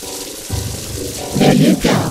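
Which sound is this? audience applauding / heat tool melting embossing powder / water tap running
water tap running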